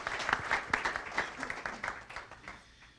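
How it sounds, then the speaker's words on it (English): An audience claps for a five-person panel at a policy presentation, a brisk burst of applause that starts full and gradually thins and fades over a few seconds. "How about another round of applause for these 5 great folks?"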